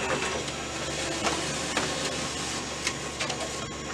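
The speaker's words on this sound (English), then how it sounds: "that's going to do its kind of initialization cycle" A Canon imageCLASS MF-244 laser printer running its startup initialization cycle, a continuous mechanical whir and hum with intermittent clicks and clunks from internal rollers, heard up close with no talking.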